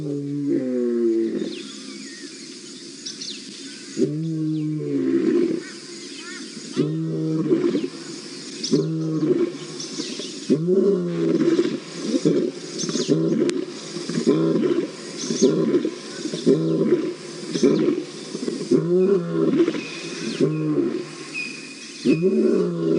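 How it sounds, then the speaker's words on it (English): A male lion roars in the wild to mark his territory, a long sequence of deep, pulsing grunting roars that build into a steady rhythmic series, loud and close, with no talk over it. "that's our male lion telling everybody this is my territory"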